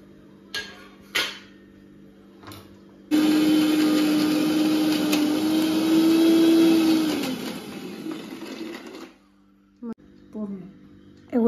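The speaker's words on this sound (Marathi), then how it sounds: "एवढा मसाला बारीक करून घ्यावा लागतो म्हणजे तो व्यवस्थित मच्छीला लावता येतो आपल्याला" An electric mixer grinder whirs steadily for about six seconds, grinding spice masala fine for coating fish in a home kitchen. A few brief clatters are heard before and after the loud, continuous motor drone.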